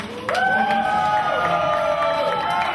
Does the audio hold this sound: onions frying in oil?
no